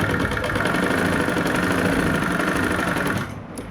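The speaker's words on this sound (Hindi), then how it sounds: "मैं आपको सिलाई लगा के दिखाती हूँ।" Sewing machine running steadily while stitching a seam on a kurti, a fast continuous mechanical whir with rapid needle ticking, close and loud, slowing and stopping near the end.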